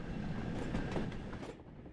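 Steam-era train running in Train Sim World on the Liverpool to Crewe route, a continuous rumbling rolling rail noise with faint rhythmic clatter, easing off near the end, no voices.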